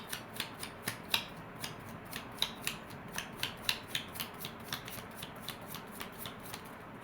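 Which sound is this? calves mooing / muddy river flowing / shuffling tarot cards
shuffling tarot cards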